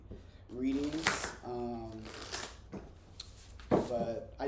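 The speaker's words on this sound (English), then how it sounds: "one more deck to shuffle, and then we'll get into the reading" A deck of tarot cards is shuffled in a tarot reading, giving soft papery riffles and slaps under a person talking. They come in bursts, and a sharper flutter sounds near the end.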